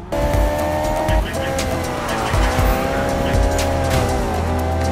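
Nakai-san's car in the Need for Speed racing game roars close by with a sustained, shifting engine note and squealing tires, rising and dipping through gear changes over a few seconds.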